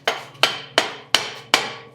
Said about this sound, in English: I'll tap that with the hammer.